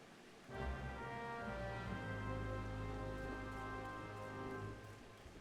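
Steady rain hisses across a scene in the Final Fantasy XIV video game, starting abruptly and holding at an even wash beneath a sustained musical drone before easing slightly at the end.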